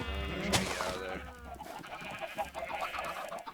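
A sheep in the video game Minecraft gives a short bleat near the start, followed by softer clicking game sounds and faint background noise.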